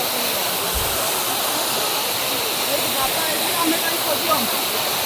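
Gundicha Ghai waterfall pours in a steady, dense rush. The hiss of the water is constant and fairly loud throughout, with no breaks.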